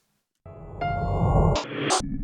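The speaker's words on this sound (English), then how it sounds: "sounds like glitching" A glitching sound-design effect built in music production software bursts in after a moment of silence: about two seconds of harsh, buzzy synthetic tones that jump abruptly between textures, loud and alone.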